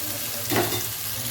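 Spices, green chillies and onions frying in oil in a clay pot on a stove, a steady close sizzle with a brief louder surge as ingredients are stirred.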